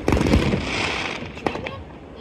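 Fireworks burst nearby in a dense crackling barrage, with sharp bangs and fizzing crackle, while voices talk excitedly underneath.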